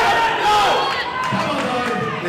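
A crowd cheers on a powerlifter at a state barbell championship, a loud, continuous roar of voices and shouts that fills the whole stretch, with speech mixed in.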